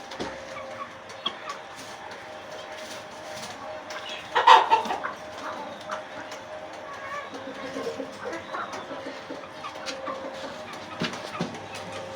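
Poultry birds cluck close by while eating spinach leaves, with scattered short calls and a brief louder flurry midway, over a soft background murmur.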